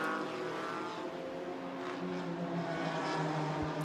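A Ginetta GT4 race car engine drones at the Barcelona circuit during a GT4 European Series qualifying session, a steady, loud, buzzing note that holds throughout with slight pitch shifts and no talking.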